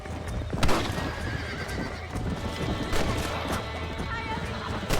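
In the video game Red Dead Redemption, a horse gallops with steady clip-clop hooves and lets out a loud whinny, close up, with a sharp crash and gunfire-like bangs during a fight with coyotes.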